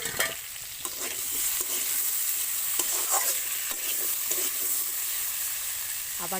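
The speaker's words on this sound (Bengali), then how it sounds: "আলুটা ভাজা হতে থাক ভালো করে" Continuous sizzle of potatoes frying in a pan, with occasional scraping stirs and clicks over the steady hiss.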